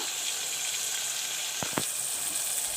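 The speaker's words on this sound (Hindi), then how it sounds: "टमाटर कुक हो रहे हैं, मैंने इसमें डाला चाट मसाला, थोड़ा सा नमक और डाला है पुदीना।" Tomatoes with salt, chaat masala and mint frying in a pan, a steady close hiss of sizzling with a couple of brief sharp pops.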